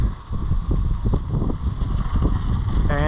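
A boat sails off in the Ala Wai boat harbor on Oahu, with close, loud rumbling of wind and water buffeting the microphone throughout and a brief tonal warble at the very end.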